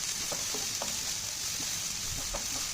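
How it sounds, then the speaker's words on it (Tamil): Onions fry in a pan with dal, red chilli and curry leaves for a crispy ladies finger fry, giving a steady, close sizzling hiss broken by a few soft stirring knocks. "இந்த வெங்காயம் நல்லா வந்து கலர் சேஞ்ச் ஆகணுங்க நல்லா முருகலாக வறுக்கணும்"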